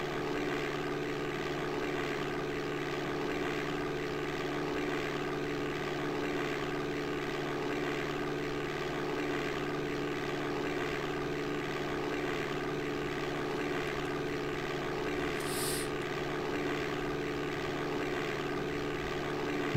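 A propeller aircraft in the DOS game Flight Simulator 5.1 takes off from Litchfield Municipal airport, its engine giving a steady, even drone at moderate level throughout with no voices.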